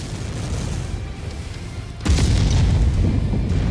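Missiles strike an enemy mech in MechWarrior 5: after steady rumbling battle noise, a heavy booming explosion hits at the midpoint and rolls on as a dense, loud roar.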